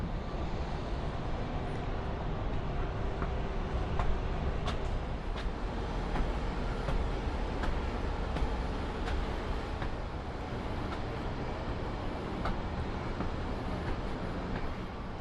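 Steady, loud rumble of a train rolling along the tracks in Kansas City, with faint rhythmic clicks over a continuous roar that never lets up.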